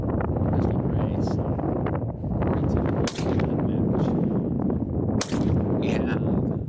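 Pistol shots ring out during a long-range shooting stage with a braced pistol, several sharp cracks spaced a couple of seconds apart over wind noise and rumbling background.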